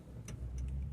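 A 2020 Honda HR-V locking with its repaired remote key: two faint, short clicks or chirps a moment apart, quiet and close.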